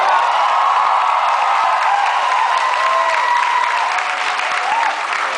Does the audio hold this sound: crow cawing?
no